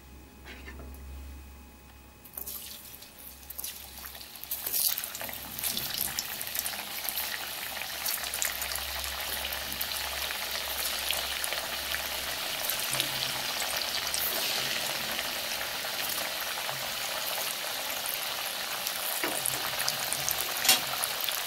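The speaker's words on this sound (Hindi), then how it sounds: "कढ़ाई में हमने रिफाइंड डाल लिया है और अब हम आलू फ्राई करेंगे" Potatoes drop into hot refined oil in a kadai and fry with a loud, sustained crackling sizzle that starts abruptly after a quiet opening and continues close and steady, with occasional stirring and no voices.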